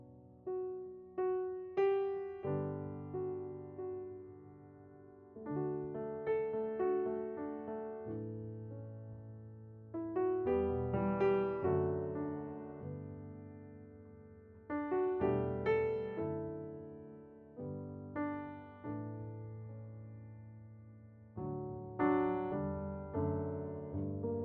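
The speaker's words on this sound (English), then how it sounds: "We've got the normal sustains, which sound like this." Sampled Yamaha C5 grand piano from the 8Dio 1985 Modern Grand library plays normal sustained notes and chords in slow phrases, each strike ringing and decaying smoothly, heard clearly and alone.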